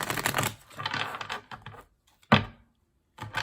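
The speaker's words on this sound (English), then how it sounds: "2 more shuffles." Close, crisp riffles of a deck of tarot cards being shuffled: a long rustling run, a pause, then a short sharp burst and another starting at the end.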